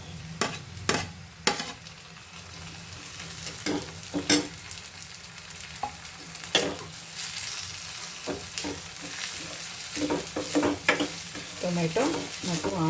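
Tomato and onion fry in a pan for chitranna gojju, a steady close sizzle running throughout while a spoon scrapes and stirs in repeated clattering strokes.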